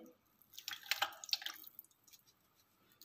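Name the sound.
pouring a cup of ghee into pot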